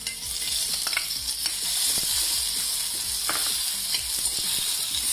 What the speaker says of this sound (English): To this we are going to add some ginger garlic paste and the chopped onions.